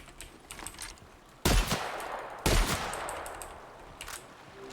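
Weapons fire in the video game The Outer Worlds, with a shotgun in use: two loud, close blasts about a second apart, each trailing off into a rumbling decay, amid lighter clatter.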